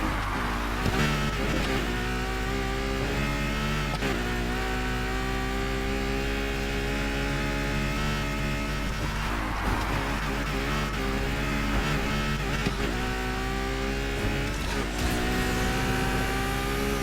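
A V12 engine in Need for Speed Heat screams past 9,000 RPM, holding a loud, sustained high-pitched wail with brief dips at gear changes, steady and alone without talk.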